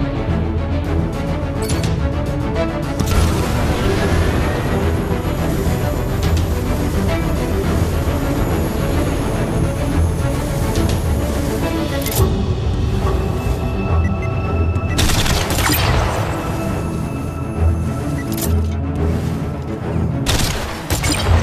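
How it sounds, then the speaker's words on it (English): Smart missiles fire at targets in the Iron Man VR game, a dense, continuous barrage of booms and explosions that fills the whole stretch, loud and close, with sharp bursts standing out near the middle and end. "Use your smart missiles to destroy the remaining targets."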